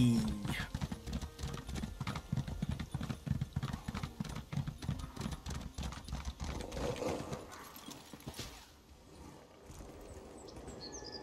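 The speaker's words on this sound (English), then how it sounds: "Horse." Horse hooves clip-clop in steady rhythm while riding in the video game Elder Scrolls Online, a dense galloping patter over game ambience that fades out toward the end.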